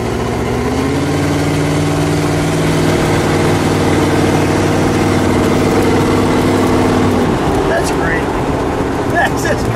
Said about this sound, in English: what a fun time riding in the real Monkeemobile